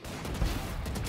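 Gunfire rattles in the Valorant video game, a brief, loud, dense burst of shots that fills the whole moment without a break.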